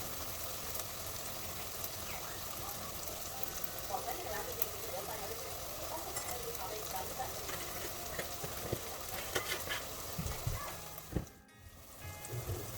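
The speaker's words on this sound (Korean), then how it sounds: "광황가루 넣고 1분 정도 볶으면 됩니다." Spinach tofu curry with turmeric powder stir-frying in a pan, a dense continuous sizzle with scraping stirs, briefly dropping out near the end.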